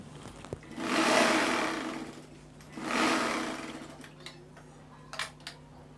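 Home sewing machine stitching a single-bed quilt while it has a fault that makes it grab and release. Two long whirring runs sound close and steady, followed by a few light mechanical ticks and clicks.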